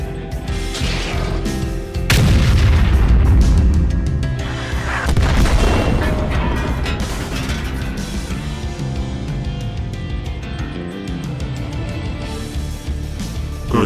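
Cartoon tank gun blasts from a Soviet tank, heavy booming cannon fire that shatters an enemy gun's breech, loud and close with a strong burst near two seconds and rumbling explosions under a musical score.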